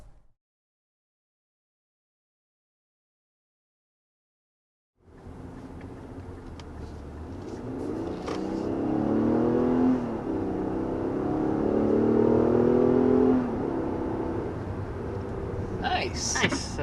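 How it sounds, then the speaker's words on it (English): A 2023 Infiniti QX60 three-row luxury SUV accelerates to 60 mph, its engine note rising steadily as a broad, continuous drone heard from inside the cabin, with a person talking over it. "So there's our acceleration up to 60 miles per hour with the INFINITI QX60"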